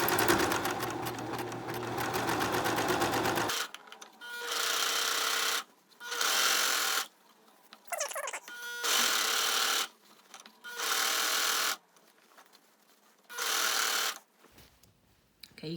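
A sewing machine stitches a sleeve band and side seam on a Torrens box top. After an opening stretch of noise, about six distinct close-up whirring runs follow, separated by short quiet gaps.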